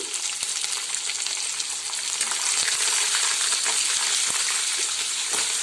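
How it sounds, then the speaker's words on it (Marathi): Peanuts roasting in a hot pan with chopped green chili, a steady crackling sizzle with sharp pops and clicks throughout, close and fairly loud. "आता पाहू शकता शेंगदाणे असे छान खरपूस खरपूस भाजलेले आहेत त्यावेळेस आपण यामध्ये टाकणार आहोत हिरवी मिरची"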